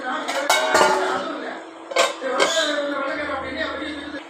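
A metal lid clinks onto a cooking pan of curry-leaf chicken chukka, giving a few bright clattering knocks close by over a steady stovetop hiss.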